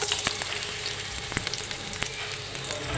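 Onion frying in ghee for mujaddara, a soft, continuous sizzle with scattered sharp crackles and pops, fairly close and with no talking.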